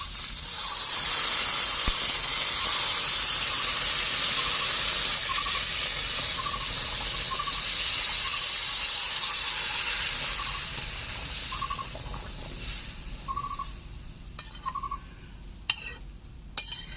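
Broth is poured into a pan of katla fish and spices frying in a village kitchen, giving a loud, steady hiss and sizzle that slowly fades toward the end, with a few faint clinks and no talk.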